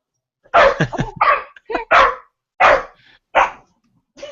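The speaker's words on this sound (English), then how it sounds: "He's barking at the door spring." Dog barking repeatedly at a spring doorstop, about seven loud, close barks in an irregular rhythm with short gaps, with no talking.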